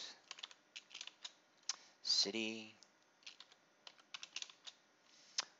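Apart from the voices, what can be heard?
computer keyboard typing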